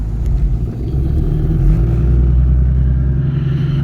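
A built single-turbo BMW M4 on E85 and meth drag racing a gutted Dodge Challenger Hellcat with a Redeye blower: a loud, steady low engine rumble that holds throughout.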